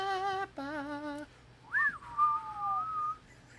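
A person whistles a short tune up close, a few held notes and then gliding, sliding pitches, clear against a quiet background.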